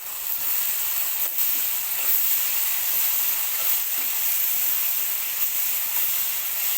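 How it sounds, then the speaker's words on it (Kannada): Tomatoes fry in a pan for a cabbage palya, making a continuous, close-up hiss and sizzle that stays even, with faint stirring clicks and no talking. "ಇದು 2 ನಿಮಿಷ ಫ್ರೈ ಆಗೋಕ್ಕೆ ಬಿಡೋಣ"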